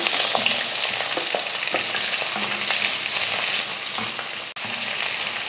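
Two large onions sizzling and frying in hot oil with garlic and chilies for a spicy tea-stall chutney, a loud continuous crackle with occasional stirring scrapes and clinks of a spoon against the pan.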